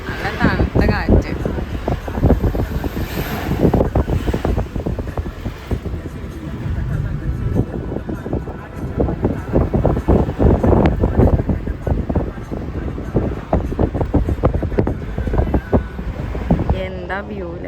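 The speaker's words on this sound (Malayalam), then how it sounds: "നല്ല തണുത്ത കാറ്റ്." Cold wind gusting at a hill viewpoint in Wayanad, buffeting the microphone in heavy rumbling bursts throughout, with people talking over it.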